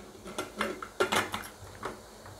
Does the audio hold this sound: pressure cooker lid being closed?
yes